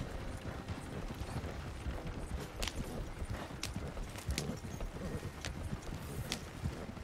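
Steady clip-clop of a white horse's hooves pulling a full coach in the video game Red Dead Online, a continuous rhythmic trot with rolling wheel and tack noise and no talk over it.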